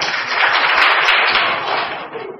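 A class of children claps together in a quick, dense burst of hand claps after solving a Hindi riddle, loud and close for a couple of seconds before tapering off.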